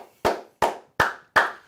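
Four crisp hand claps ring out alone at an even, slow pace, each a sharp close snap with a short decay.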